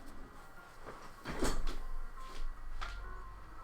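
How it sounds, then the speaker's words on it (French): A few muffled knocks on a door, spaced irregularly and fairly faint against a quiet indoor background, with no talking. "il y a quelqu'un qui frappe à la porte"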